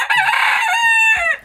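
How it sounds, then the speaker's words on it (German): A rooster crows loudly and close by, one long drawn-out cock-a-doodle-doo ringing for over a second, heard at an idyllic garden with hens and other birds at the edge of a Berlin settlement. "auf Hühner und Hähne"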